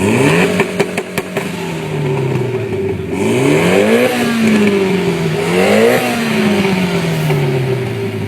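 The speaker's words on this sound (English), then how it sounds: "He's got an AMS downpipe, a speed circuit test pipe, and an HKS high power exhaust." Mitsubishi Evo X fitted with an AMS downpipe, a test pipe and an HKS high-power exhaust, revving loudly nearby: rising and falling engine sweeps with a throaty rasp, a few sharp pops early on.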